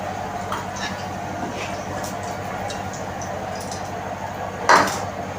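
Fried bitter gourds are lifted out of a kadai, with soft scraping and clinking of a utensil against the metal pan and one louder clatter near the end.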